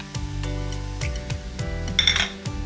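Fried shrimp going into a pan of radish being cooked for a Bengali shrimp and radish ghonto, with clinks and scraping of a utensil against the pan and light sizzling, close and without speech.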